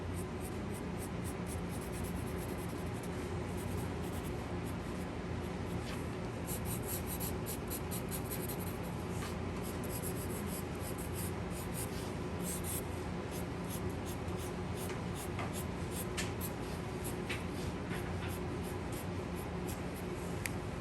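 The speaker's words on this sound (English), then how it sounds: "And that is my cross hatching." Marker cross-hatching on paper to fill in dark shadowed areas while drawing value spheres: a steady, continuous scratchy rubbing of a felt tip across paper, close and even throughout, with faint repeated stroke ticks and no talking.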